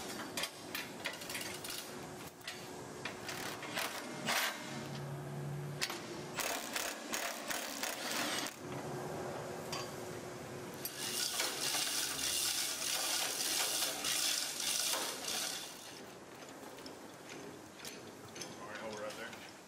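Ratchet clicking in steady runs as the attaching bolts come off each end of the center deck on a RhinoAg X Series mower, with mechanical clatter and a voice speaking over parts of it.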